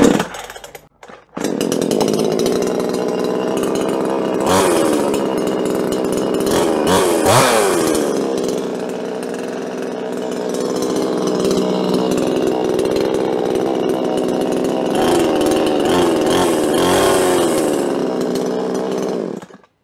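A chainsaw is pulled to life and runs loudly, its engine whining up and down in pitch as it revs for a long stretch.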